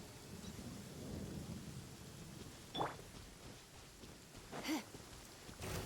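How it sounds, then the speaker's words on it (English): Steady rain patters throughout a stormy scene in the video game Genshin Impact, with a couple of brief thunder cracks rising above it; the whole scene stays quiet and distant, with no voices. "Taking shelter and listening to the rain cleanse the earth makes me feel safe."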